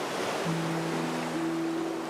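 Ocean waves in Honkai Star Rail wash steadily as a broad, even surge, with faint sustained tones drifting underneath throughout.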